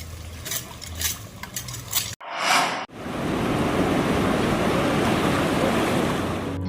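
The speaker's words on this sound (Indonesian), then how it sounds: "suara hantaman ombak di pasir pantai seolah melafazkan nada-nada indah yang menghibur" Ocean waves crash and wash up onto a sandy beach in a steady, loud roar of surf. The sound begins with scattered rushing noise, briefly swells into a single wave break, and then settles into a continuous, full wash.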